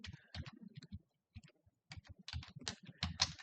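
Fingers tap out numbers on a computer keyboard, entering data into a spreadsheet in quick uneven bursts of close, soft key clicks separated by a brief pause.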